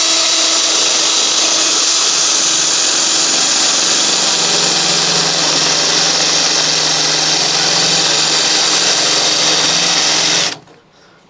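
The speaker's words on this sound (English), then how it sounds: "what I need to do is use my spot weld drill" A steady, loud high-pitched whine of a spot weld drill drilling through sheet metal on a 1969 Porsche 911, running continuously for about ten seconds, then stopping abruptly.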